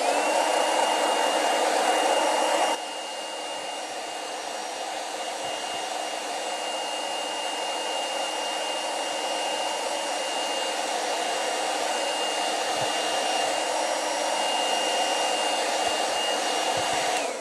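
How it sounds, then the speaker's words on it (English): A hair dryer roars steadily and close by, slightly louder for the first few seconds, then settles into a constant whine with no talking. "I'm gonna put a hairdryer on. It's very loud though."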